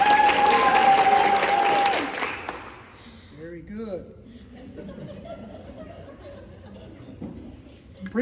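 A group bursts into applause on command during a drill routine, loud dense clapping for about two seconds that then fades into chuckles and scattered laughter with some voices.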